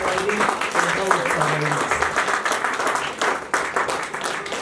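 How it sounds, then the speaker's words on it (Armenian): Church congregation clapping in praise during a service, a sustained burst of applause with voices and other sounds mixed in underneath. "եկեք փառաբանենք Տիրոջը մեր ծափարություններով"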